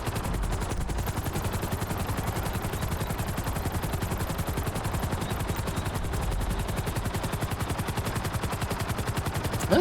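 Sparrow helicopter in Grand Theft Auto Online, its rotor chopping in a steady, fast, loud rhythm that runs without a break from start to end, with no voices over it.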